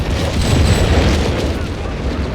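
Naval barrage explosions in Company of Heroes 3 rumble loud and deep. The booms blur into one sustained roar of low blasts with a brief whistle early on, and a caster talks faintly underneath.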